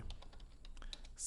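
Typing on a computer keyboard during AutoLISP coding, a quick run of light, close key clicks at an irregular rhythm, fairly quiet.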